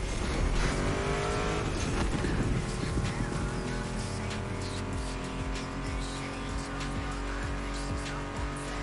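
A Ford Mustang GT muscle car in The Crew Motorfest racing game roars loudly and steadily, with engine revs shifting pitch and brief tire squeal early on, then a sustained, dense drone.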